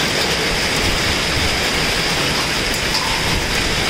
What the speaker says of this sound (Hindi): बहुत तेज बारिश है, बहुत तेज ओले गिरे।